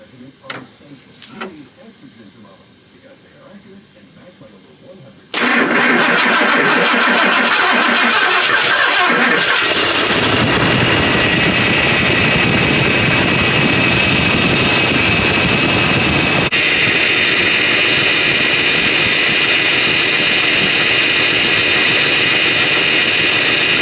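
A Centurion C-350 engine runs for the first time in nearly 20 years: a few quiet knocks, then it fires and runs loudly and steadily, rising to a higher, rougher roar partway through.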